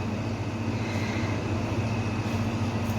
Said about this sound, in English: We have to centrifuge it for 10 minutes